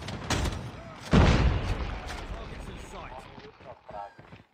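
Legendary Shorty shotgun firing in Call of Duty Mobile, a few sharp blasts with the loudest near the start and a heavy boom past the first second, trailing off under in-game noise.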